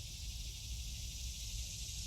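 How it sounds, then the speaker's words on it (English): Cicadas buzzing outdoors in a neighborhood, a steady high droning hiss that holds evenly throughout, with a low rumble of background noise beneath. "Do you hear the cicadas?"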